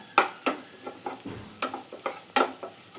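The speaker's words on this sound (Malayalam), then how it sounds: "എല്ലാം കൂടെ വഴറ്റി ഇതിൻ്റെ റോസ്മെല്ലെല്ലാം ഒന്ന് മാറി വരണം." Ginger and garlic sautéing in a pan for a chicken curry, with a spatula giving about a dozen uneven scrapes and stirs over a soft sizzle, close and fairly quiet, no talking.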